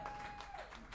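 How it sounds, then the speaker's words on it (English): Brief burst of audience clapping at a birthday comedy roast, applauding the host, loud and close with a busy room behind. "can we just give a round of applause"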